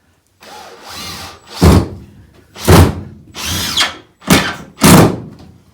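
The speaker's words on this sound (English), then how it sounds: "It just kills me to screw into this tongue and groove, but what can you do?" Power drill driving screws into tongue and groove wood, several loud close bursts of motor whine and grinding, each short burst separated by brief pauses.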